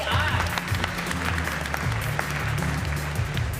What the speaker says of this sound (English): one more round of applause for Deep Science AI